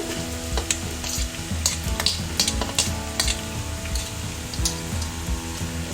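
Ginger, garlic, capsicum and carrot fry on a high flame with a steady loud sizzle, while a spatula scrapes and stirs the pan in repeated sharp strokes.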